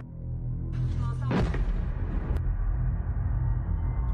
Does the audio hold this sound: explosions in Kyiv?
yes